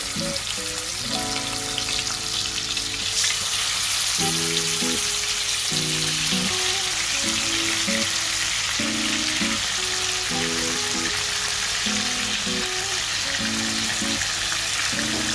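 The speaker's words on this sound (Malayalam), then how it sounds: "ഇതിനകത്തേക്ക് നമ്മൾ ആ പുരട്ടി വെച്ചിരുന്ന ചിക്കൻ ചെറുതായിട്ടൊന്ന് ഫ്രൈ ചെയ്യാനായിട്ടിടാം" Marinated chicken frying in sunflower oil, a loud, dense, unbroken sizzle close by, with a low tonal hum and intermittent pulsing tones running underneath.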